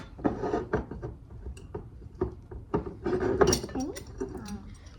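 Dough for homemade donuts stirred in a bowl, dairy-free with melted coconut oil: scraping, knocking utensil-on-bowl clatter in irregular bursts, close by, with a voice murmuring in the background.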